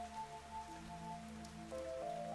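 Steady rain falls in the video game Fantasian Neo Dimension, a soft, even hiss of droplets that lasts throughout, mixed with sustained musical tones.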